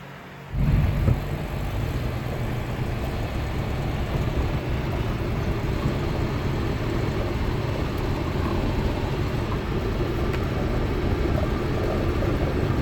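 A 1955 Hudson Rambler drives at speed, a steady low engine drone with road rumble heard from inside the car, constant and unbroken after a brief bump at the start.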